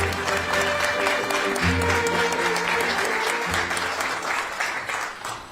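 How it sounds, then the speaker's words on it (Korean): Warm applause from a ceremony crowd welcoming the vice minister of oceans and fisheries, a loud, sustained clatter of many hands with some low background rumble beneath. "따뜻한 박수로 맞이해 주시기 바랍니다."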